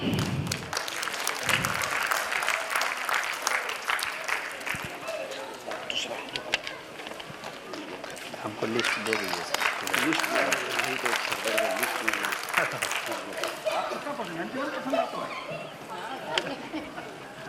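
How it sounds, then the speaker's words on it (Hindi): Sustained crowd clapping at a community annual general meeting during a student award presentation, steady and fairly even throughout, with a voice speaking over it and some background chatter. "तालियों में कमी नहीं होनी चाहिए।"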